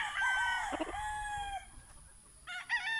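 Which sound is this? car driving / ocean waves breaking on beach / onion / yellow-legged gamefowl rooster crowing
yellow-legged gamefowl rooster crowing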